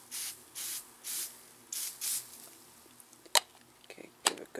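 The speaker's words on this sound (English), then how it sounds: "Spray it on." Several short hissing bursts of aerosol spray starch in a row, each about half a second, followed by faint handling clicks and rustles.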